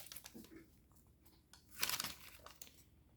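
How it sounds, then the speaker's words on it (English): Paper being squash folded while making an origami jet, soft close crinkling and crumpling with a louder rustling burst in the middle, faint and intimate. "if you want to make them more square-like, just going to take it and squash fold it"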